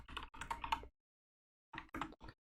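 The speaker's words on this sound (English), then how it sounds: "I just keep typing away." A computer keyboard is typed on while coding a Next.js web dashboard, in two close bursts of quick, dense key clicks separated by a silent pause.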